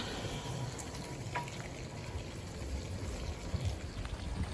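Steady rain patters and hisses in a soft, even wash, fairly faint, with scattered drips and no talking.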